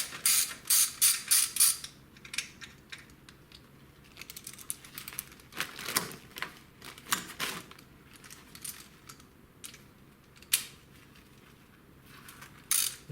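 Hand ratchet clicking as exhaust header bolts come off a Jeep Cherokee XJ 4.6 stroker, sharp close metallic clicks and creaks in irregular bursts, loudest at the start, with no voices.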